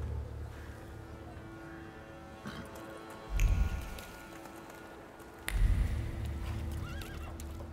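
A horse whinnies and snorts a couple of times amid hoof clatter and shuffling, fairly close but not loud, with no one talking, in a video game.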